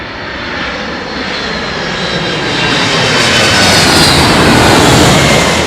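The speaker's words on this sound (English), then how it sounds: "Shiji Gokale saying that's a 30-year-old Boeing 767." A 30-year-old Boeing 767 jet rolls down the runway with its engines thundering, the loud roar swelling gradually and staying close and strong to the end.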